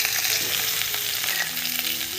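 Potatoes and peas fry in a pan with a steady, close sizzle and faint stirring scrapes running throughout, and no one speaks.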